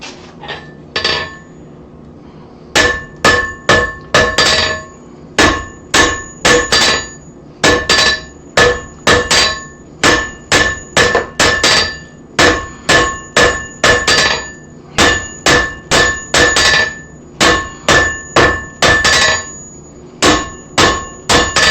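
Hot metal stock is drawn out on an anvil for a hand-forged bell, struck in quick ringing hammer blows that come in steady bursts with short pauses between, loud and close, no talking.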